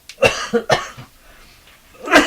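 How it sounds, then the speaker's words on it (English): A person coughs close by, a quick burst of three or four harsh coughs, a short pause, then another loud cough. "I'm coughing to death here."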